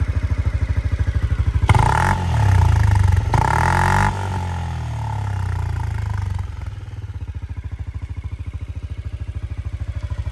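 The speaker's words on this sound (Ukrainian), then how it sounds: "Красивий звук двигуна." A small fuel-injected Honda Forza scooter motor idles with a rapid, steady putter, revs up loudly twice in quick bursts, then drops back to its even idle, close by.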